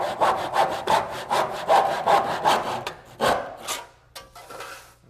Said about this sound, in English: you can use a handsaw to trim the casing to length